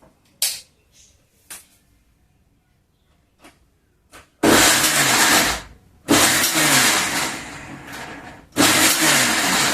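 A mixer grinder grinds a coarse green apple chutney in three loud, steady bursts of whirring motor and blade noise, each run separated by short pauses, with faint clicks and handling knocks before the first burst.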